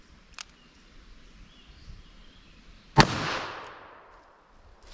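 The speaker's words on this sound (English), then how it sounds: "Hit that with our 22 Magnum." A single sharp .22 Magnum rifle shot firing a CCI Uppercut round outdoors, one loud crack followed by a decaying ring-out, with a faint click or pop shortly before.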